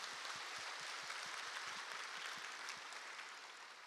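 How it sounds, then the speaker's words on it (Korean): A church congregation applauds to welcome new members at a Sunday morning Easter service, a steady broad wash of many hands clapping throughout, fading slightly toward the end. "마음을 담아 박수로 환영하겠습니다"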